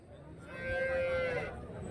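Jersey cattle at a busy cow market give a single drawn-out moo, rising and holding before fading, heard moderately close over a steady murmur of crowd noise.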